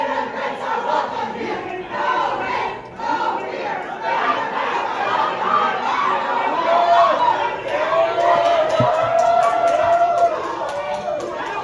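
A dense crowd chatters and calls out in Albany, New York, as border chief Tom Homan moves through it, a steady wash of many overlapping voices close by with a few louder shouts rising above the din.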